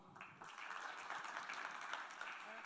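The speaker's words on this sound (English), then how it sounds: "So a big applause for her" An audience at the React Africa 2024 developer conference applauds for speaker Jemima, a soft, even wash of clapping from a roomful of people heard at a distance.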